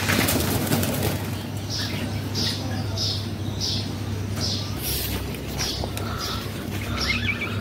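Pet birds are released, giving bursts of wing flapping in quick repeated flutters against a steady background hum, with occasional squawks and coos among them.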